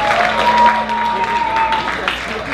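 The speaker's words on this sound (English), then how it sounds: "Let's give him a round of applause." Applause from a rock show audience for the drummer, a crowd clapping under a sustained tone and a voice, moderate and fairly close, steady for a couple of seconds.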